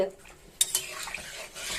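Pointed gourd and potatoes fry in a little oil in a pan while a metal spoon stirs them, sharp clinks and scrapes over a light sizzle.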